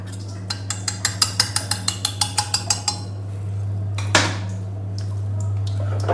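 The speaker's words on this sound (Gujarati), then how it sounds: "તો તમે જોઈ રહ્યા છો કે ખીરું તૈયાર થઈ રહ્યું છે।" Bajra batter for pudla being beaten in a bowl, a quick run of about fifteen rhythmic tapping strokes, then a scrape and splash, close and clear over a steady low hum.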